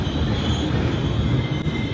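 A Vistadome coach train running from Araku to Vishakapatnam gives a loud, continuous rumble with steady wheel noise and a thin metallic squeal on top, heard from inside the carriage without talk.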